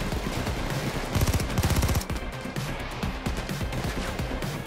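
Rapid automatic gunfire in the video game Payday 2, dense bursts of shots with a heavier volley in the middle, continuing in scattered rattling fire afterward.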